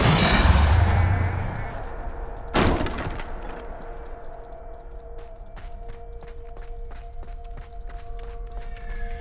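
A Depulso spell cast in Hogwarts Legacy, a sharp bursting crack that stands out once amid a rumbling spell-battle din, followed by a steady ringing hum and repeated light clicks.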